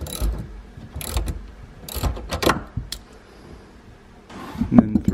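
A ratchet wrench tightens the battery terminal on a sixth-generation Chevrolet Camaro, in several quick bursts of close, rapid clicking separated by short pauses.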